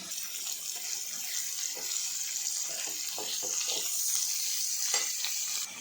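Onions with ginger garlic paste sautéing in a pan for a meal maker fry, giving a continuous close hiss and sizzle with scattered soft stirring scrapes and taps.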